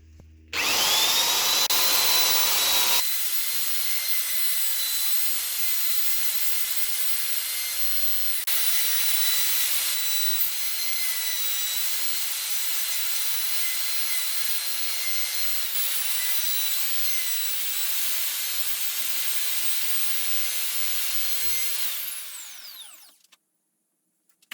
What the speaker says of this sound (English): So now I'm going to take it on with the actual routing now. Let's make a neck pocket.